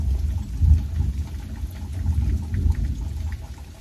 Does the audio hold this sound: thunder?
yes